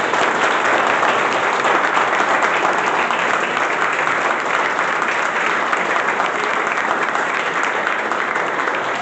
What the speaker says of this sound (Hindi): और दोनों हाथ से जोर से तालियां बजाइए।